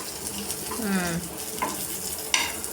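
Okra fries in a pan with a soft sizzle, broken by a few stirring scrapes and clinks nearby. A brief voice is heard.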